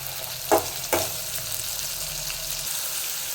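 Onions sautéing with salt in a pan give a steady, close sizzle, with two quick knocks of a stirring spoon near the start and no speech.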